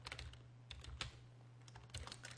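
Quick, quiet keystrokes on a computer keyboard in short irregular bursts, close by with no talking.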